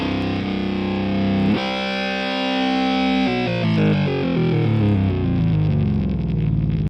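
Heavily distorted electric guitar through the NeuralDSP Archetype amp plugin, sustained chords then shifting pitch-bent notes with a detuner-like effect, loud and close, no talking.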